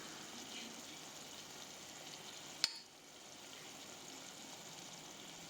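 Turmeric, red chilli, garam masala, salt and coriander powder frying in oil for spinach dal, a steady soft sizzle with one sharp click partway through, no talking.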